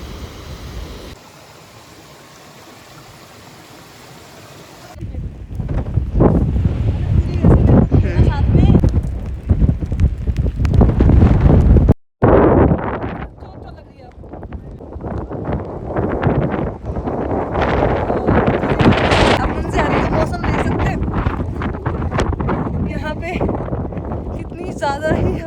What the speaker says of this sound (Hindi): ज़्यादा ही हवा तेज चल रही है,